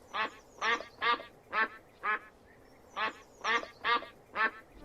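Ducks quack in a steady series of about ten loud, evenly spaced calls, grouped in two bursts with a short pause between, alone with no voices.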